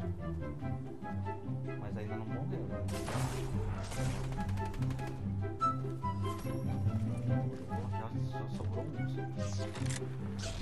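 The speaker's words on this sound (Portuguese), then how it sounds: "Já tá atirando." Gunfire in Fortnite, rapid bursts of shots and clattering action sounds layered over in-game music, steady and fairly loud throughout, with voices talking over it.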